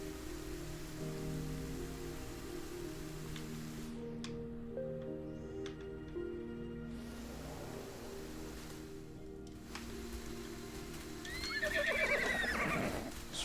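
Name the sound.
horse neighing and hooves in a video game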